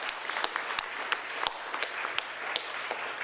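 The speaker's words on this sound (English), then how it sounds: "So now you can applaud everybody we want to thank." Church congregation applauding, a moderate, steady patter of clapping with a few sharper individual claps standing out, heard from within a sanctuary at modest volume.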